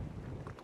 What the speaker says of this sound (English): As you can see, it's really, really windy here.